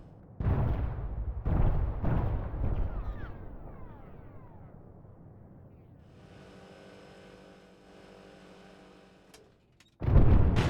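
High-explosive artillery rounds strike in Arma 3 with two or three heavy, booming impacts early on. A long fading rumble and a steady mechanical drone follow, then a sudden loud blast right at the end.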